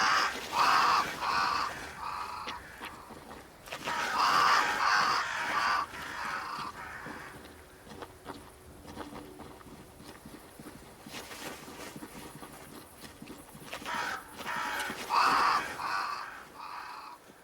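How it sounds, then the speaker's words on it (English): Crows caw near a great tree in the video game Banishers: Ghosts of New Eden, in three loud clusters of repeated harsh calls several seconds apart, with quieter ambient game sound between them. "Crows. They flock to that great tree up there."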